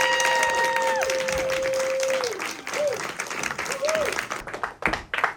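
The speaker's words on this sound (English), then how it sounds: "One more round of applause for all of our readers tonight" Applause fills the room after a poetry reading at an offsite literary event: many hands clapping in a steady, fairly loud wash, with a few sustained tones and faint voices in the crowd.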